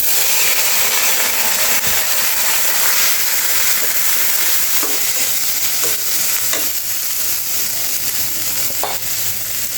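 Polau rice frying in a pan for a vegetarian dish, giving a loud, steady sizzle with a stirring hiss and occasional scraping clicks of a spoon against the pan.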